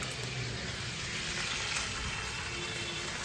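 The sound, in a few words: frying grated onion in a pan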